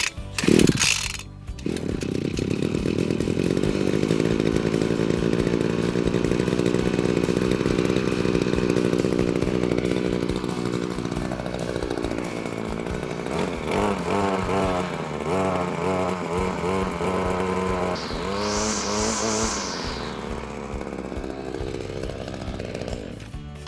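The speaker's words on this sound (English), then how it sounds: "your Cobra GT260C 2-stroke petrol strimmer, ideal all around the garden" A Cobra GT260C two-stroke petrol strimmer pulls into life and runs steadily at close range, its loud buzzing engine droning alone, rising and falling briefly as the throttle is worked before it settles again.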